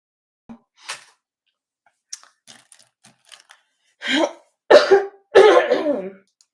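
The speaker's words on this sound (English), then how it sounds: "I am really sorry. I have to cough." A person clears their throat and coughs a few times at a desk while sorting brush markers, with quiet small clicks and taps between the coughs.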